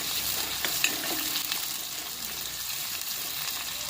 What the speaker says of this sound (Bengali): পেঁয়াজ আর কাঁচা লঙ্কাটা ভাজি হচ্ছে